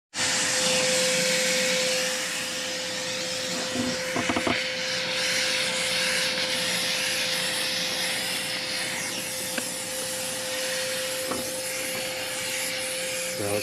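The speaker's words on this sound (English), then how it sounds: "I'm going to get my dry vac. And I'm going to clean up any dust and dirt" A dry vac runs steadily and close, sucking up dust and dirt around the fuel tank of a Jeep Wrangler TJ during a fuel pump replacement, a constant broadband roar with a few light scraping bumps.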